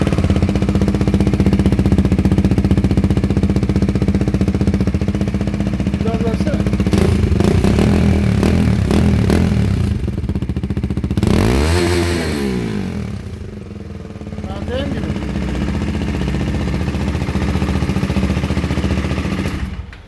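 A Husqvarna Svartpilen 250 motorcycle engine runs loud and close, idling with a rough clatter and then revving up and settling back down, with no one speaking over it.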